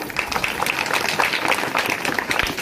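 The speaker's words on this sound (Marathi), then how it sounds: "त्यांचं स्वागत करते मी, त्यांच्यासाठी टाळ्या." Applause from a crowd of women at a haldi-kumkum gathering held at a rural district council school, steady, moderately loud clapping filling the room for a few seconds.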